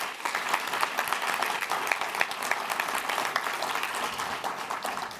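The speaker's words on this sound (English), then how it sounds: "Let's give a big round of applause for John." An audience at a community event gives sustained, dense applause, steady and full throughout with scattered sharper claps standing out.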